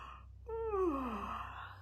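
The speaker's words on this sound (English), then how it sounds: "Yawn your sleepies out" A single drawn-out yawn with a falling, moaning pitch, close and fairly soft, alone with no talk around it.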